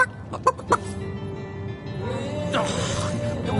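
Chicken clucking in short, sharp bursts near the start, then a drawn-out squawk, heard close over a noisy background; people talk during it.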